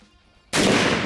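A single sharp rifle shot from a Falkor Defense Petra bursts out after a quiet lead-in, loud and close, its report ringing on to the end.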